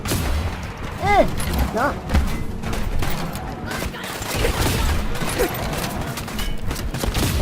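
In Fallout 4 gameplay, bursts of heavy machine gun and minigun fire rattle in dense, overlapping volleys with booming impacts and sweeping mechanical whines, while someone speaks briefly over the shooting.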